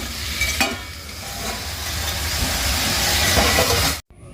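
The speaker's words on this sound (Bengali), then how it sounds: "এখানে করে নিচ্ছি বাঁধাকপি ভাজা" Shredded cabbage frying in a pan, giving a loud, steady sizzle and hiss with a faint stir or scrape near the start, before cutting off abruptly at the end.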